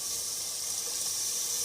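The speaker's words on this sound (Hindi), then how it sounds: "अब मैं इसमें 1 कप पानी डालूंगी" Water poured from a cup into fried matar pulao masala of peas and spices, a steady splashing gush at close range lasting under two seconds with no talk.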